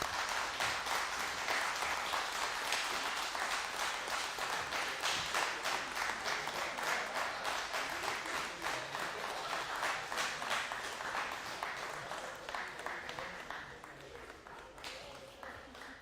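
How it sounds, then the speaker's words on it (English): A debate audience in Jamaica applauds steadily for about sixteen seconds, dense clapping that holds loud and slowly thins toward the end, with some voices mixed in. "You can clap now."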